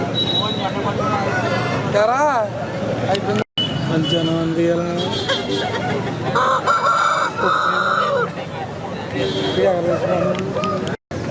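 Roosters at a weekend country chicken market crow and cluck repeatedly, loud and close, with several birds overlapping while people talk nearby.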